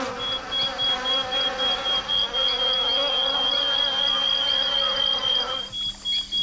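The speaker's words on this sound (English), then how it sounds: "These bees just sound like a dying cell phone." Bees in the Amerzone video game buzz in a continuous, wavering drone with a thin electronic-sounding whine on top. They stay close and steady before cutting off near the end.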